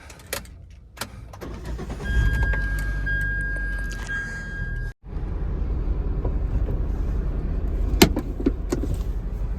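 A Hyundai Santro car engine cranking and catching, a few rattles and key jingles, then the motor settling into a steady close idle with a brief click and thump, no voices.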